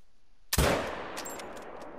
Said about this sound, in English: That shot looked low.